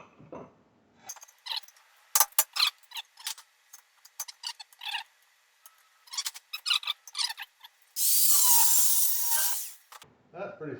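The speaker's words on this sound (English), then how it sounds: "3-pound hammers do the trick." A 3-pound hammer strikes metal parts of the running gear on a 1980 Triumph TR7, a close, irregular series of sharp blows broken by short pauses, followed by a brief steady hissing burst near the end.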